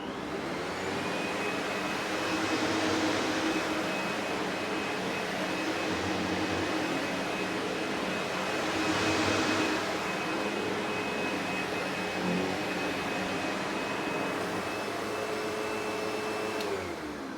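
A white Sebo X7 vacuum cleaner runs steadily on the floor, picking up carpet cleaning powder, its motor a loud continuous whine with a high tone and slight surges as the head moves, no voices.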